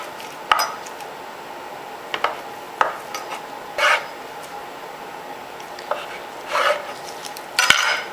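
A knife cuts a block of five-spice tofu into four pieces, giving several sharp, separate taps against a cutting board with quiet pauses between them and no talking.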